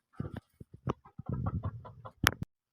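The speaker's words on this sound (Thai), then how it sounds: "วันนี้พามาชม เบิ่งไก่ป่านะครับผม" A jungle fowl crossbreed rooster kept in a pen clucks up close: a handful of short, throaty clucks followed by a longer burbling call and two sharp final notes, loud and clear with no talk.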